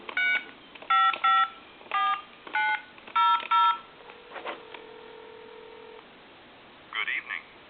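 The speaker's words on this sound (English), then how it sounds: "And I'm going to dial time and temp." Two-line telephone dialing the time and temperature line: a series of clear touch-tone beeps in quick groups, then a steady tone and a few more faint tones near the end.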